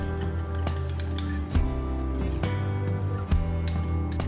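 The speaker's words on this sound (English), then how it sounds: "lastly I'll add very little honey and mix it well into the salad" A salad is tossed with an olive oil, lemon juice, salt, pepper and honey dressing: utensils clink and scrape against a dish in a few light knocks over a steady low hum, close up, with no talking.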